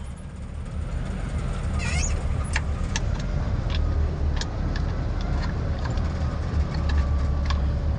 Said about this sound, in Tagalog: traffic na sa taas ng tulay tingnan nyo